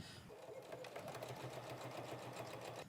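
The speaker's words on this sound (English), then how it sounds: "sew these sides with 1/2 inch seam allowances" A sewing machine stitches the side seams of a fabric shopper tote with a steady, fast mechanical whirr and rapid needle ticking for the whole stretch, faint and close with no talk.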